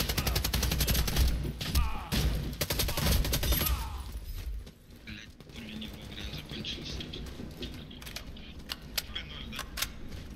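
Rapid bursts of automatic gunfire from the online shooter Warface crackle loudly for several seconds, then give way to quieter scattered shots and game noise.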